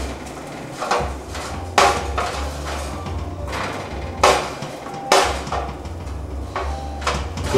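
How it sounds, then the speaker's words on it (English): Turkey bacon gets flipped in a pan over a stovetop flame: a few sharp clanks and knocks of a utensil against the pan ring out at intervals over a steady low hum. "Check on my bacon. At this point, we can flip these."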